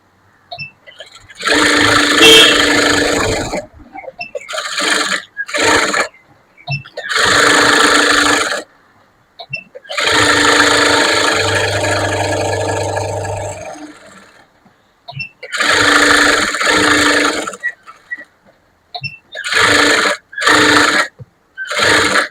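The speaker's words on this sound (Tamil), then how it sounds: "அதுக்கப்புறம் நம்ம சுத்திலும் தையல் போடணும்" An electric sewing machine stitches a lined blouse in repeated loud whirring runs of a few seconds each, separated by short pauses, close and clear with no talk.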